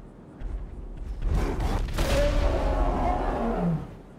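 Demon Atrox in a GTA 5 mod game letting out a deep, growling roar that swells and holds loud for a couple of seconds amid rumbling impacts, with someone talking excitedly over it.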